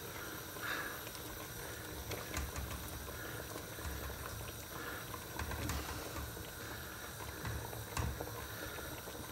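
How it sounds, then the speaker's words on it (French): Beef stew liquid with meat chunks boils in a pot for daube de boeuf, giving a steady close bubbling hiss with small irregular pops throughout. "ça bout bien"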